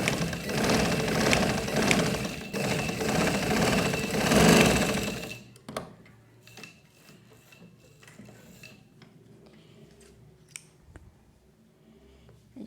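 Sewing machine stitching an umbrella frock, running steadily and fairly loud for about five seconds, then stopping abruptly, followed by faint handling rustles and occasional small clicks.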